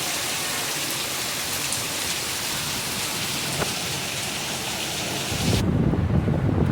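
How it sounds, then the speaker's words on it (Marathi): Heavy monsoon rain pours down with strong wind in Mumbai, a steady loud roar of water with a faint distant rumble of thunder, swelling into a heavier, closer downpour at the end. "कसे एकदम जोरदार पाऊस पडतो आहे आणि त्या धाराही एकदम जोरदार येते"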